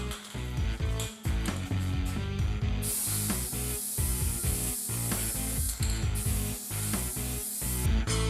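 Matte finish clear coat sprayed from an aerosol can onto a camouflaged shotgun, bursts of hissing spray mixed with close clicks, rattles and handling noise of parts and tools.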